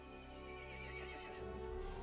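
A horse in the Resident Evil Village video game lets out a long, quavering neigh, loud and sustained over a dense rumbling game soundscape, with no voices.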